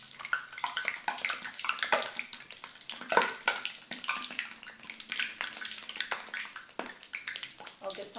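A kitchen tap runs water in an uneven, splashing stream, with clattering and bumps from cooking nearby.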